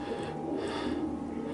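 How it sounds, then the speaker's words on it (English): A pigeon coos softly in a low, hollow murmur, faint and somewhat distant against a quiet background hum, with no one speaking. "Is that a pigeon?"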